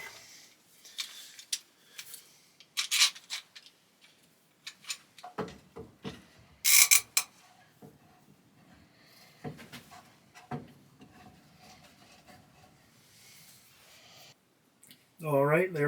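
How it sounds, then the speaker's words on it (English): Clamps go onto a hardwood glue-up for a book rest organizer in a workshop, with scattered close rubbing, scraping and clicking handling sounds between quiet gaps, plus a few sharper bursts and someone talking. "Now I'm going to add a crap ton more clamps."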